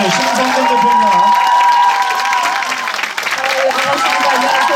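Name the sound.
audience applause and cheering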